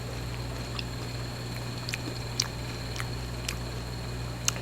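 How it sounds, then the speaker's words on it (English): Someone bites and chews battered fried fish from a bar and grill, making a string of crisp, close crunches spaced unevenly over a steady low hum, with no talking. "I know y'all hear that crunch on that fish."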